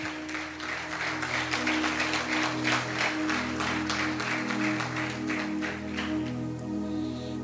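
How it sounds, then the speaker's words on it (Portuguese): A church congregation applauds together during an evening worship service, a steady wash of many hands clapping at moderate level over a sustained low musical drone, with no talk. "Você pode aplaudir a Jesus por isso?"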